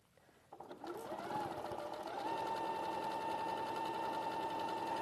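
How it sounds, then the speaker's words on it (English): A sewing machine ramps up from a brief start and settles into a steady, continuous whir as it sews a quarter-inch seam on a quilting piece. The sound is fairly close and runs without interruption. "this again is sewn together with a 1/4 inch seam allowance"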